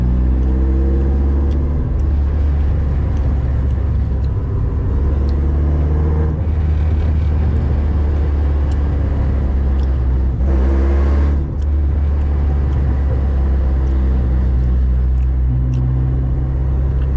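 A Mazda car engine idles and burbles at low RPM, a steady close rumble with a brief swell near the middle, with no voices over it.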